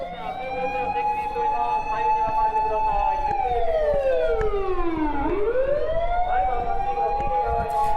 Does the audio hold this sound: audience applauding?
no